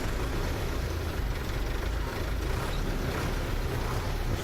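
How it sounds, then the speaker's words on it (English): A tractor idling in Farming Simulator 17, a steady low engine drone holding constant throughout with no change in pace. "Start up this tractor."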